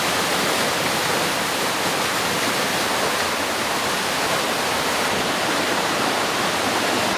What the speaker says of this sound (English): We made it down onto the main creek.